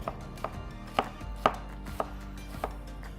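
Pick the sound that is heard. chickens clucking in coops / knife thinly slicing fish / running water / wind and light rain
knife thinly slicing fish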